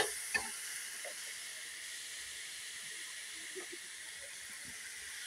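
Vegetables fry in oil in a pan, giving a faint, steady hiss and sizzle with a couple of soft clinks near the start.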